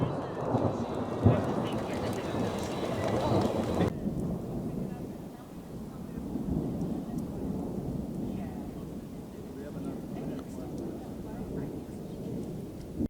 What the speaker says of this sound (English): it started raining a little harder